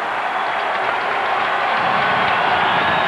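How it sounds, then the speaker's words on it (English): A loud crowd at a Michigan versus Michigan State college ice hockey game roars in a dense, steady wash of cheering that holds for about three seconds, with no voices standing out. "And this loud crowd here loving this one."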